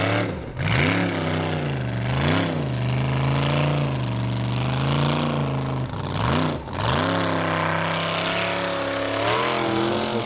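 The Raptor off-road racing vehicle roars at a Formula Offroad event in Egilsstadir, Iceland, its engine revving hard with rising and falling pitch and two sharp dips, loud and close, with no voices.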